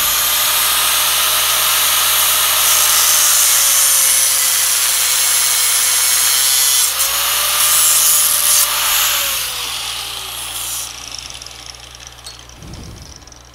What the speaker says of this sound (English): and a good old grinder.